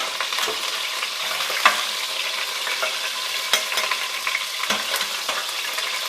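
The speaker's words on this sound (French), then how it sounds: "je vais faire revenir d'abord les oignons" Onions frying in a pan for a spiny lobster curry, a steady close sizzle broken by scraping clicks as they are stirred, with no voices.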